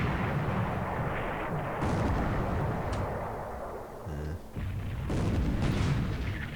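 Naval guns trade fire in War in the Pacific, with heavy booming reports and armor hits thudding in bursts over a continuous dull rumble, with no voices.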